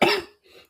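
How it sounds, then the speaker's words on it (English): A single harsh cough bursts out close by, followed by a fainter, raspy after-cough as it trails off. "I don't want you seeing my coughing."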